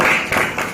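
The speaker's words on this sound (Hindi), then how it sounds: "एक बार जोरदार ताली।" A wellness meeting audience bursts into a loud round of applause, dense overlapping hand claps filling the room, close and sustained for under a second.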